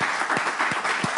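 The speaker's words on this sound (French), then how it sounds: "Vous pouvez vous applaudir." Studio audience applause at the close of a French-language TV talk show: dense, steady clapping held at an even level with a few stronger claps standing out.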